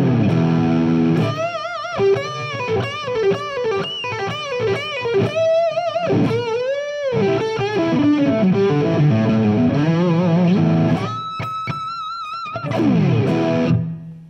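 A Framus Wolf Hoffmann WH-1 electric guitar plays distorted single-note lead lines, loud and close, with fast runs, bends and vibrato, a held high note near the end before a final chugging phrase.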